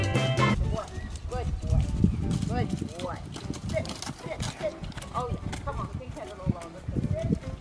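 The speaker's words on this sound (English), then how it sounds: "This is a school pony she's riding." A school pony being ridden gives a steady clip-clop of hooves, heard under a voice that talks almost constantly, with an occasional animal call mixed in.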